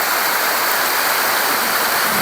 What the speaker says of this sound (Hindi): बहुत ही सुंदर झरना है ये, एक छोड़कर 2-3 झरने हैं यहाँ पर।